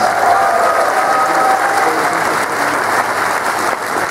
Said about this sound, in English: Yeah, round of applause, come on